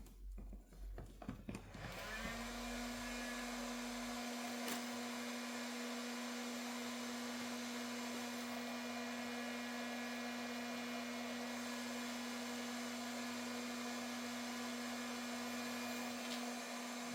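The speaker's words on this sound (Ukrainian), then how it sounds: "Фен включаємо." A hair dryer whirs on after a brief clatter and keeps blowing at a steady, loud, even drone to the end, powered by a Jackery Navi 2000 portable power station.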